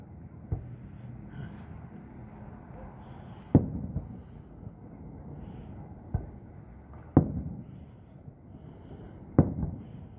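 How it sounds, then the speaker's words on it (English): Fireworks exploding at night over a park on June 12th, a handful of separate sharp bangs spaced a few seconds apart, heard from a distance over a low rumbling background. "not the 4th of July yet, and they're having fireworks"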